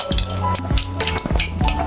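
Tempering spices such as cumin, mustard seeds and urad dal crackle and spit in hot oil in a pot, with a few sharp pops and spatters over a constant bright sizzle, close and fairly loud.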